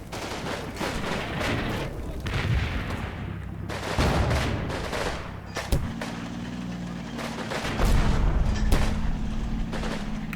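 Gunfire and artillery in the WWII tactics game Combat Mission Red Thunder, set at a German last-ditch defense, thud and crackle in scattered shots and booms over a steady rumbling engine drone.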